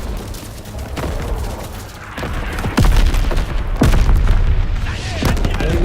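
Artillery strike explosions in the World War II video game Call of Duty WWII, with several heavy booms and thuds rolling over continuous battle noise, growing louder in the second half, with game voices underneath.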